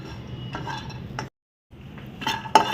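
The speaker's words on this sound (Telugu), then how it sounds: "ఈ రెండు జస్ట్ అట్లాగా కొంచెం రోస్ట్ చేయాలండి" Cashews and almonds being dry-roasted in a pan, stirred with clinking scrapes of a utensil against the metal at close range, broken by a brief silent gap and ending in a sharper clink.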